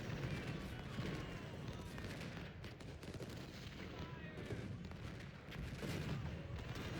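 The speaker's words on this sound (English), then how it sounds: "Hit him with grape shot cannons now." Rumbling grapeshot cannon fire and crackling musket volleys from the Civil War strategy game Ultimate General: Civil War, a dense continuous battle din with repeated booms throughout.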